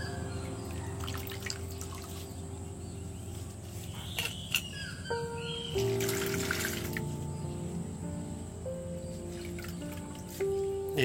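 Water splashing and dripping as peeled potatoes are moved from one container into a bowl of water, steady close sloshing with trickles over background hum and faint music.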